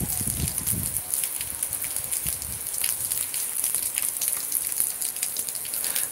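Rain falls steadily in Cabo Verde, a constant patter with scattered sharper drops and a brief low rumble at the start.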